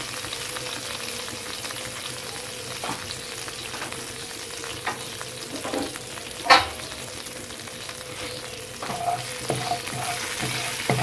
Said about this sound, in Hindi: 1 टीस्पून सौंफ, इसको अच्छी तरह से फ्राई होने दें मीडियम आंच पर।